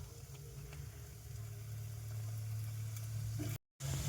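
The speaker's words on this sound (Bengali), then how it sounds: "আমি এভাবেই সবগুলোই ভেজে নেব।" Egg paratha fries in a hot pan with oil, a quiet steady sizzle and faint bubbling that runs unbroken, with a brief dropout near the end.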